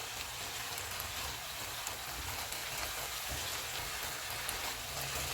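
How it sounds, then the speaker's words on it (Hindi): Food sizzles in a pan on a medium-heat stove while cooking an Afghani omelette, a steady, dense hiss of frying that continues evenly throughout without pause. "चूल्हे को मीडियम कर देते हैं और इनको 2 मिनट तक भूनेंगे"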